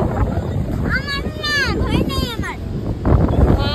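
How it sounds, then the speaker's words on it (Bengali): Gusty wind rumbles and buffets against the microphone while a person talks over it. "প্রচন্ড হাওয়া, আমার কোনো ভয়েস আসবে না এখানে।"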